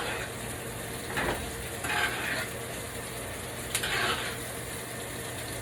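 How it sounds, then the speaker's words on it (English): Butter sizzles and spits in a hot pan while being spooned over a thick bone-in ribeye steak, a steady frying hiss with a few brief scraping swells of the spoon. "I'm going to tilt my pan a little bit, and I'm going to start spooning butter on it"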